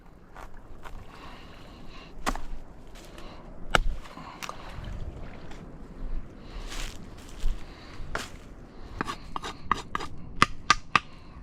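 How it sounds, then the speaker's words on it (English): Chopping fish with a blunt machete on a makeshift board outdoors: sharp, irregular knocks and thuds, some in quick clusters, set against soft water and ambient noise, with no talking. "I don't think this machete is very sharp anymore."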